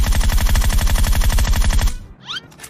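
Rapid automatic gunfire from a video game, aimed at a tree, rattles in a loud, close burst for about two seconds, then stops abruptly.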